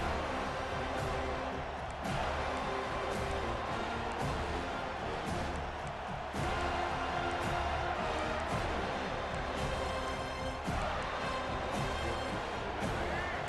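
A stadium crowd roars steadily in the College Football 25 video game, a dense sustained wall of cheering with brief surges and a few thuds, while voices talk over it.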